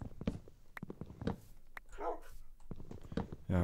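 Dogs in the video game Minecraft let out several short, sharp barks spread across a few seconds, clear and close against a quiet game background.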